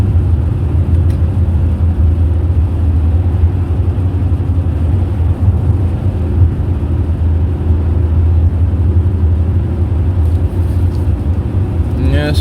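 A manual-transmission car drives steadily on a winter day in Minnesota, giving a constant loud low rumble of engine and road noise with no distinct changes throughout.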